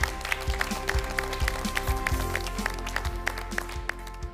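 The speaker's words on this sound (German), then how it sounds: "Einen großen Applaus gibt's jetzt für dich, Lisa Angermann." Studio audience on a German cooking show applauding, dense rhythmic clapping with sharp beats that holds steady throughout.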